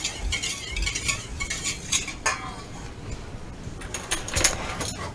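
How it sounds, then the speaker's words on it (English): Waffle batter being whisked in a bowl, a quick, busy run of close metallic clinks and scrapes with no talk. "Give it another nice whisk around."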